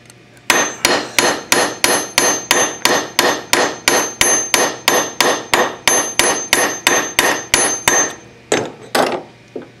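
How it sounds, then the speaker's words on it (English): Metal struck with a hammer against an anvil to texture it, a steady rapid series of about twenty sharp ringing blows at an even rhythm, close and loud, ending with a couple of separate final strikes. "hammer that texture in just by taking it to it."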